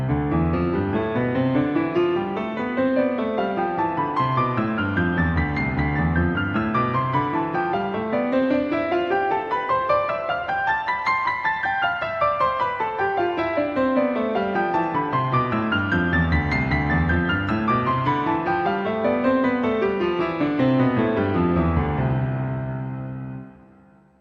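A keyboard scale exercise, hands moving in opposite directions, ascends and descends in smooth even notes, spreading apart and returning twice at a slow steady pace, alone and close.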